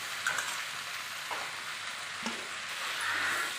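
Tomatoes and onions sizzle and fry in a pan for murungai keerai (drumstick leaf) soup, with a steady hiss broken by a few soft spoon scrapes of stirring, close and fairly quiet throughout.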